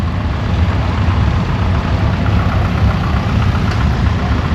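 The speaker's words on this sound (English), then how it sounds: "1468 International V8 diesel." An International 1468 tractor with a V8 diesel idles loud and close with a deep, steady, rumbling chug at an old farm machinery show.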